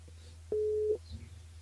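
A single outgoing call tone on a radio phone line: one clean steady beep about half a second long, followed by faint low background noise.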